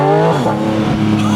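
A 2023 Porsche Cayman GT4 RS accelerates hard up close, its engine note loud and rising in steady harmonic sweeps, with a brief dip and climb midway as it pulls through the revs.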